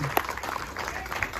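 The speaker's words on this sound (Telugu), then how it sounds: "సాయి రమణకి ఒకసారి గట్టిగా క్లాప్ చూడండి" An audience claps at a film trailer launch event, a dense, continuous patter of many hands heard up close.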